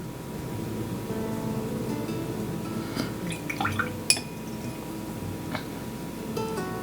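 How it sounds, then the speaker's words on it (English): Watercolor brushes being rinsed in a water jar, with soft sloshing and small drips, then a cluster of light clinks against the glass partway through, all faint and close with no talk. "I'm making sure that I'm cleaning my brushes in between uses and I don't leave it in the water."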